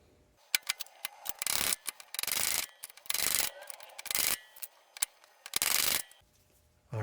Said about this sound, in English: And then in goes the seal.